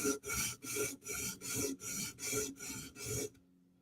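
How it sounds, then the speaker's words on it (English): A Chris Reeve Inkosi tanto knife blade is ground along its bevel in seven regular rasping strokes, close and even, each stroke separated by a short pause, then silence. "This side's still got a bit of grinding to go."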